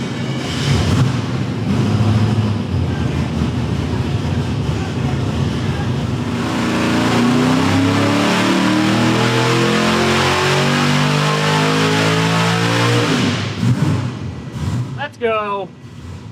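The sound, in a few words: boosted Ford 302 small block engine revving on dyno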